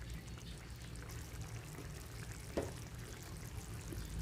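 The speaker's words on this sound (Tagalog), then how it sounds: "Dagdagan ko muna siya ng tubig" A steady stream of water pours continuously into a cooking pot, with a faint low background hum and a small clink partway through.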